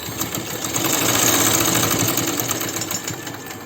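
A sewing machine runs steadily, stitching a frilled neckline on a women's dress, its motor hum and rapid needle rattle continuous and close for a few seconds with no talking.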